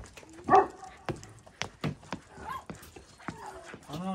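A dog in a corner of a home gives a few short, sharp barks close by, mixed with the voices of people talking over it.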